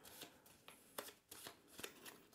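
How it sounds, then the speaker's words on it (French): Playing cards for a board game shuffled by hand close up, a quiet run of soft riffling swishes and taps in uneven rhythm. "je vais maintenant mélanger les cartes qui sont ici"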